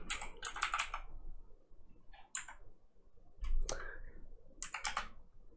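Computer keyboard typing in quick clusters of clicks with short pauses between words, close and fairly quiet, with no speech.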